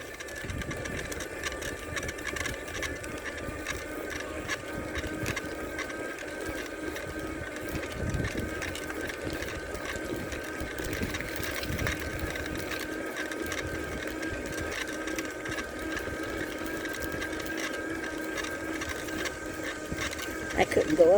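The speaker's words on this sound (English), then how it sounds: "Doing some pedaling here." Electric-assist bicycle climbing a hill on a park ride, with a steady mechanical whirr and ticking from the drivetrain and motor that runs close and continuous the whole time.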